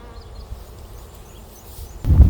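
Honeybees buzz faintly as they fly out of newly installed nucs, a soft, steady hum, then a louder low thump near the end.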